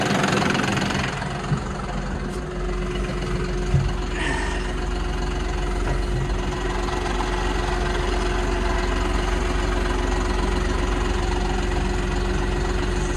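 A John Deere 5075e tractor with busted hydraulic lines idles close by in a steady, loud diesel drone, with faint shifts in load as the hydraulics are worked up and down; no talking.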